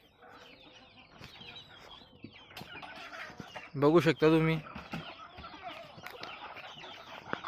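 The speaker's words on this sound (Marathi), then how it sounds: "आता मी मित्रांनो कोंबड्या सोडत आहेत बघा" Hens on a village farm cluck and squawk busily as they are let out at dawn, some calls close and loud, while someone talks over them throughout.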